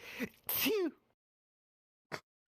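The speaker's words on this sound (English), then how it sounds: "cute sneeze" A short, sharp sneeze with a breathy intake just before it, followed by silence and one brief faint burst of noise.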